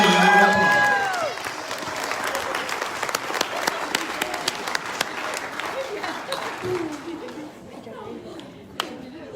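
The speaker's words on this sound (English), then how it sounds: "Ladies and gentlemen, let's give them a round of applause." At an awards banquet, an audience gives a round of dense applause that starts loud and then gradually thins and fades, with crowd chatter mixed in and a few scattered claps near the end.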